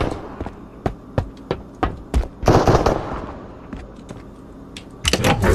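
Gunfire in the video game Marauders: sharp single shots spaced about every half second, with heavier bursts and echoing booms, loud and close with no talking.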